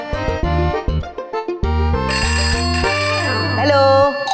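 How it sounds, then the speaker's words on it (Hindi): A mobile phone ringtone plays loud and close, a bright repeating electronic melody with stepped notes, running steadily with no pause. "फोन बज रहा है"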